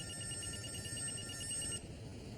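A video phone call rings out as a steady electronic telephone tone that repeats evenly, then stops abruptly near the end. The ring sounds alone over a low background hum.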